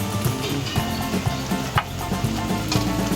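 Prawns with turmeric and salt fry in a pan, their watery juices popping and sizzling in a dense, steady crackle with occasional stirring knocks against the pan, close and fairly loud, no voices.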